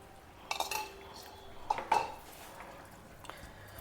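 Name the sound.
powdered methi seeds and hing added to pot and mixed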